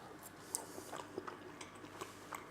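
Soft, close chewing of a halved Brussels sprout cooked with bacon, a few moist crunches and bites spread over a couple of seconds with no talking.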